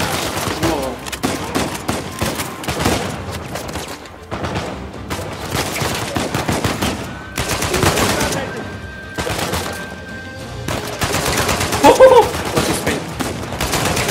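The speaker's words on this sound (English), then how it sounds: "Who's shooting now?" Rapid bursts of gunfire and automatic weapon fusillades from the Uncharted 4 video game crack repeatedly through the scene, with brief pauses between volleys and loud, close shots.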